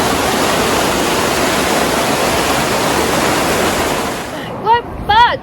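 Strong water flow rushes against narrowboat lock gates, a loud, broad, continuous roar heard close by; near the end the roar fades and a few brief voice sounds break in over it.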